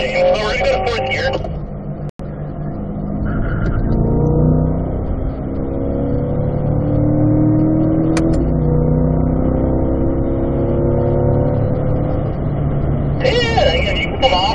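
Car on a driving-school track accelerating and shifting up into fourth gear, a sustained rising engine drone with sweeping pitch, loud and close beneath continuous instructor talk.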